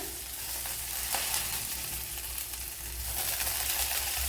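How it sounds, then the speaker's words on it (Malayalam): Coarsely crushed grated coconut frying in a little leftover oil for a Kerala egg curry, giving a steady, even sizzle with no talking. "ബാക്കി കുറച്ച് ഓയിലുണ്ട് അതിലേക്ക് തേങ്ങ ഇട്ട് കൊടുക്കാം"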